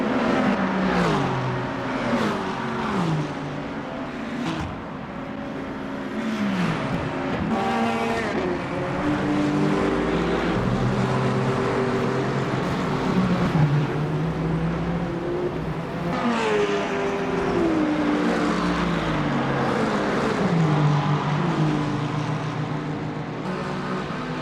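Lexus RC GT race car in Le Mans Ultimate at the 24 Hours of Le Mans, engine note climbing and falling through repeated gear shifts, loud and close throughout with steady road and wind noise, no talk.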